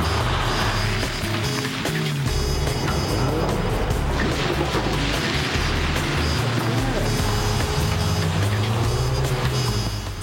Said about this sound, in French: quand la voiture passe sur la plaque, cette dernière pivote soudainement et envoie le véhicule en tête à queue